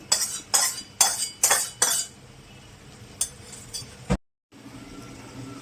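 Spoon scraping ready amudi fish curry from a metal pan into a serving dish, five sharp clinks and scrapes in quick succession, then a few softer taps and a brief pause.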